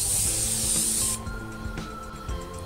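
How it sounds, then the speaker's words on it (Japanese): A Shushupa makeup setting spray gives one steady, bright hiss lasting about a second, close to the mic, then stops, leaving a quiet room. "今から振りかけてみますね。"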